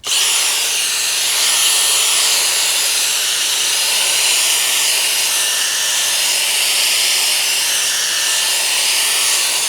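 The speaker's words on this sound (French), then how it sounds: "Je vais refaire une passe avec la visseuse et on y va." A cordless screwdriver drill runs continuously at full speed, a loud, steady whir lasting the whole stretch with no pauses and no talking.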